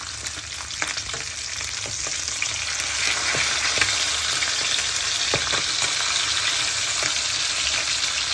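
Salmon pieces fry in oil on a flat tawa, giving a steady close sizzle dotted with small crackles and pops.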